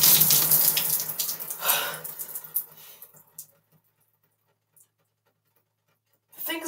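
Water running in a home shower, a broad steady spray for about three seconds that then cuts off to near silence before the flow briefly returns at the end.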